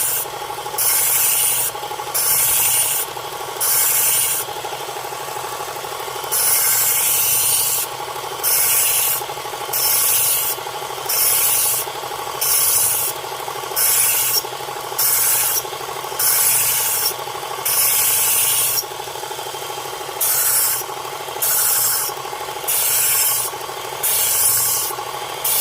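A Work Sharp Ken Onion MK2 belt sharpener runs with a fine grit belt, making a loud, steady motor whir and belt hum. A blade is drawn across it in regular passes that add a harsh rasping grind.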